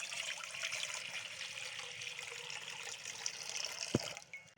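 Water is poured into a pot for Kashmiri pink tea, a steady splashing trickle lasting several seconds before tapering off, with a brief clink near the end.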